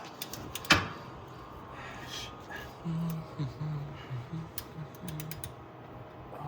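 A ratchet wrench working during an Acura MDX oil change, with quick clicking mechanical bursts and a sharp metallic knock near the start, while a person talks at intervals.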